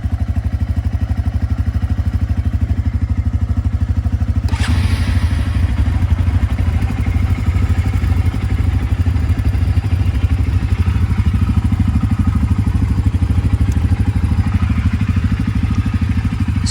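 A Polaris Eiger ATV engine idling after a cold start, a steady loud chugging drone throughout with a brief clatter partway through and no talk.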